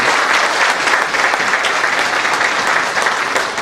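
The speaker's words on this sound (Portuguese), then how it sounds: "Você não aplaude a Deus?" A church congregation at a family retreat applauds together, a loud, dense, continuous clapping that fills the room from start to finish without pause.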